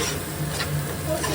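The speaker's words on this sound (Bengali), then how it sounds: "এবার এটা ভালোভাবে ফ্রাই করে নেব" Onion, ginger, garlic and green chilli paste frying in a pan, a soft steady sizzle with light stirring scrapes, close and alone.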